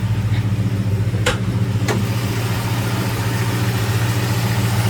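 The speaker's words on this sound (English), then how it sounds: "Take a look at that 289 with it running." A 1968 Ford Ranchero with a 289 V8 idles steadily nearby, a deep even rumble with a regular pulse and a couple of brief clicks early on.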